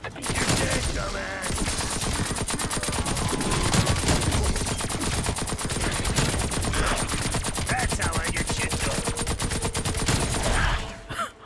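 A nail gun in a video game fires a loud, unbroken stream of rapid shots that runs the length of the clip on round 41, then cuts off near the end.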